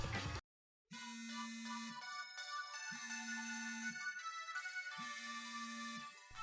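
A Nintendo video game phone ringtone jingle plays loudly and alone, a bright melodic tune over a steady low tone that repeats three times with short gaps, after a brief silence at the start.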